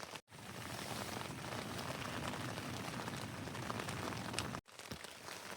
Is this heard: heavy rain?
yes